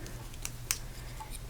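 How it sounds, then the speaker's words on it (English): A few short, crisp snips of sharp scissors cutting paper sound over a steady low hum, one sharper cut standing out near the middle. "we're going to take some snips or some sharp scissors"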